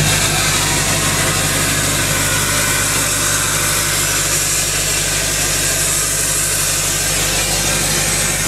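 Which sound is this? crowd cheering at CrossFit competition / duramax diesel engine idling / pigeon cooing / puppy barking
duramax diesel engine idling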